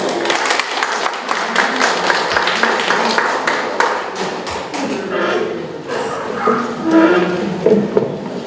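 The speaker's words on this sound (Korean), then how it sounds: "여러분 큰 박수 주십시오." Audience applause for a keynote speaker at a Korean security forum, dense clapping with thumps and taps filling the room throughout, fairly loud and steady, with some voices mixed in.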